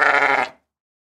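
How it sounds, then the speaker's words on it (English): A single sheep's bleat, loud and close, a short wavering baa lasting about half a second before cutting to silence. "Baa is the sound of the sheep."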